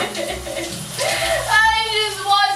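A shower runs steadily with water splashing close by while a person stands under it fully clothed, a continuous hiss with voices talking over it.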